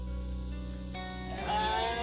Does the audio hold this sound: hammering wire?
no